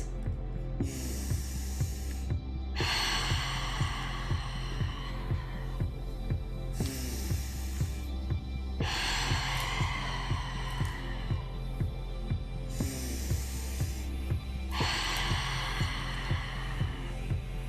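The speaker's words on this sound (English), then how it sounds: "Enjoying these last few moments of rhythmic breathing before we get into our first hold." Rhythmic breathing in a breathwork class, with long airy breaths repeating every few seconds over a steady background of soft music with a regular beat.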